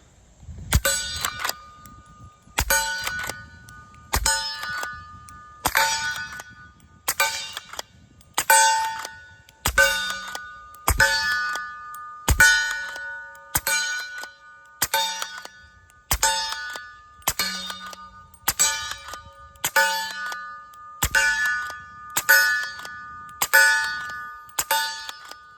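Suppressed Henry lever-action rifle in 300 Blackout firing subsonic loads at steel targets: about fourteen evenly spaced shots, each a muffled pop followed by a ringing metallic clang, with the lever working between them.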